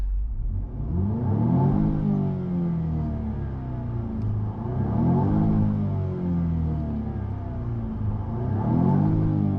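A 2021 Jaguar F-Type P300 with its exhaust opened in sport mode revs up in three long, loud sweeping pulls, each rising and falling, with no talk over it.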